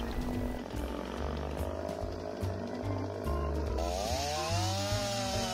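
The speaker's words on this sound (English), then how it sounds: "Chainsaw may kick back when a log hits the tip of the chainsaw bar." A chainsaw engine drones steadily while cutting logs, with a buzzing, rising and falling pitch as it works, loud and close throughout.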